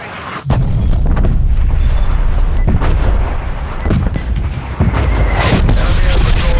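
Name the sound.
artillery strike explosions in video game Call of Duty Black Ops Cold War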